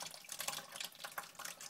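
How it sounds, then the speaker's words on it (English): Old engine coolant drains from the radiator of a Jeep Liberty diesel into a bucket, a steady close splashing trickle of liquid running continuously with small fluctuations and no voices. "we can start draining some old coolant out"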